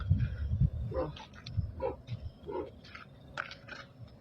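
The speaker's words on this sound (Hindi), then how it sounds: "कुत्ते की भौंकने की आवाज कहाँ से आ रही है?" A dog barks several times at a distance in short separate yelps, faint under background rumble and noise.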